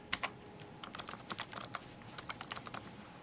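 Typing on a US-layout computer keyboard, a run of quick, light key clicks in an irregular rhythm, close and fairly quiet with no voices.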